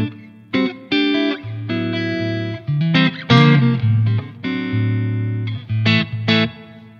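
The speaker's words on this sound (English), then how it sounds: "I got this sound just with the reverb" An electric guitar played through a ZUTA LA25 MKII pedal with only reverb engaged rings out in picked notes and sustained chords, each attack followed by a lush, lingering tail, loud and close.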